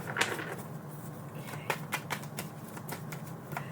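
Soft, quick riffling and flapping of tarot cards being shuffled by hand, irregular clicks close by and fairly quiet, with no talking.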